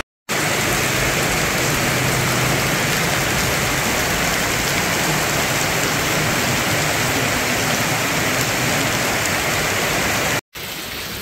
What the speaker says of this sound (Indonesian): Masih terjebak hujan nih teman-teman